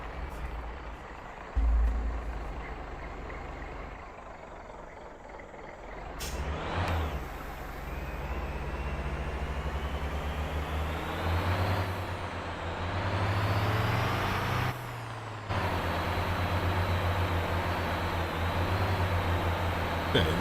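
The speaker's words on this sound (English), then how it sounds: "Truck. Off-roading. Surprisingly, getting it done." Truck engine laboring over off-road ground in a cozy driving game, a steady low drone that rises and shifts with throttle, punctuated by brief hissing bursts and changes in pitch, continuous and fairly loud with no talk.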